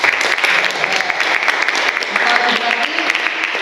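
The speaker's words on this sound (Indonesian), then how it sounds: "Tepuk tangan untuk kelompok 1." Steady applause from a group in a classroom fills the whole stretch, a dense even patter of many hands clapping with no pauses.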